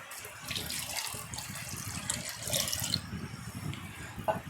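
Sago pearls are rinsed in a bowl of water while making idli batter, with close, continuous sloshing and swishing as the grains are stirred by hand and no voices.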